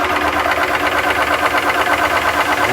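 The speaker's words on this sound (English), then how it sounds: "Turn on the compressor." A Kong Lil' Foot PCP air compressor runs steadily with a loud, continuous mechanical drone and a fast, even pulsing throb, close by and alone without talk.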